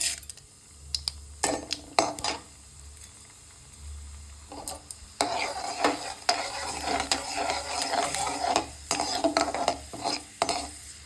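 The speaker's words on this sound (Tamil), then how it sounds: "கடுகு பொரிஞ்சிருக்கு. இப்போ உளுத்தம்பருப்பு, கடலைப்பருப்பு சேர்த்துக்கலாம்." Urad dal and chana dal stirred into hot oil with spluttered mustard seeds in a pan, with a steady sizzle, intermittent spoon scrapes and clinks against the pan, and no voices.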